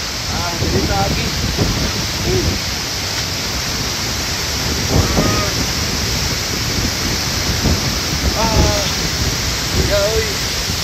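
A waterfall roars in a constant, broad wash of rushing water throughout, while people talk and call out over it at intervals.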